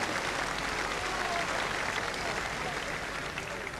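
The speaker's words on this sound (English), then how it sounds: "some very well-deserved applause for Steve Ellis." Steady applause from a bowls audience greets a good delivery at a 1984 Waterloo semi-final or final, a dense, even patter of clapping that holds at moderate level throughout.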